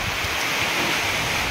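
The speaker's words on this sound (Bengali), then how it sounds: "এখন এই বৃষ্টি শুরু হয়ে গেছে।" Rain falling at night over rice fields, a continuous even hiss with no breaks, heard alone.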